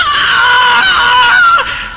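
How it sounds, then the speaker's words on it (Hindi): Man screams in fright in a Hindi horror audio story: a loud, sustained high-pitched cry, wavering and strained, holding for nearly two seconds before breaking off and fading. "इस बार अंकुर सच में चीखा"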